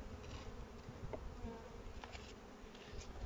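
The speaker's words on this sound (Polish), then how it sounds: "pszczół na powałce multum" A dense swarm of honeybees buzzes steadily up close on the inner cover of an opened hive, a continuous droning hum with occasional louder passes near the ear.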